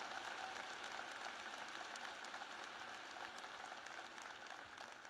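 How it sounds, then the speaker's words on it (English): Steady, dense applause from a large crowd at a University of Alabama commencement fills the whole stretch, faint and distant, with no break in the clapping. "So I would like to get a round of applause for Dr. Bell"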